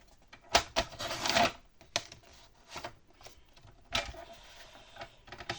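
Paper is cut for a large envelope folio in a quiet craft session, with irregular close slicing and paper rustles in short bursts separated by near silence.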